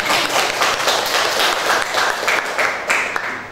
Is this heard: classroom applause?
yes